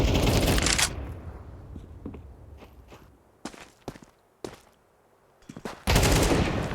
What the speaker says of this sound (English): Nice shots out of Shui.